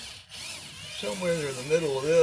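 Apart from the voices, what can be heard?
power drill drilling a hole in a work board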